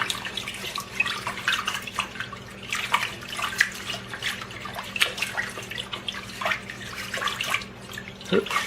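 Steady running water splashes and trickles into a sink or bowl while rice is rinsed, with small clinks and sloshing, close and continuous.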